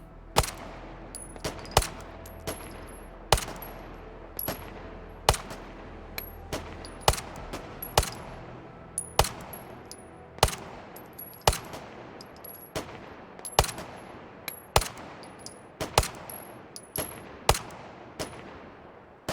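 Firearm shots fired through a Holosun red dot sight, a long steady series of about a dozen sharp, loud reports spaced roughly a second apart, each followed by a short ringing decay, with no talk.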